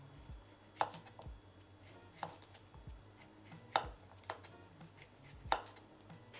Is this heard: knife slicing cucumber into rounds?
yes